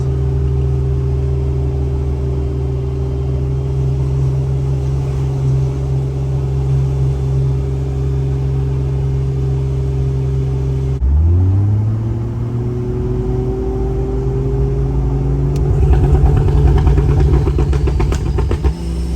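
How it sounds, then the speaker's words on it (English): Jeep Cherokee XJ climbing a hill, its engine humming steadily and loudly before a sharp shift around the middle, then pulling harder as the pitch rises and turbo spool whines faintly over the drone, with no talking. "It's a nice road to listen to some turbo spools."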